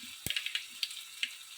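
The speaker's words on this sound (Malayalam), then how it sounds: "ഇനി കടുക് പൊട്ടി കഴിയട്ടെ, എല്ലാം കൂടെ ഇടണം." Mustard seeds popping in hot oil for a banana flower stir-fry, a quiet series of sharp irregular crackles over a soft sizzle, one louder pop near the start.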